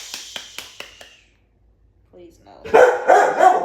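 A dog gives four sharp barks in a quick, even series, fairly close. After a pause, a person starts talking over it.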